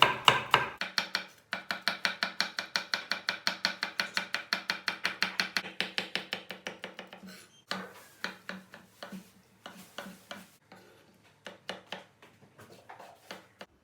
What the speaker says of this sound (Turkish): Biberlerimizi de ufak doğrayacağız.